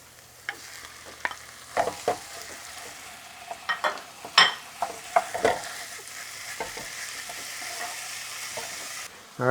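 Meat frying in a pan for a stuffed potato chop, a soft continuous sizzle broken by sharp scraping stir strokes and clinks of the utensil, close, with no talking.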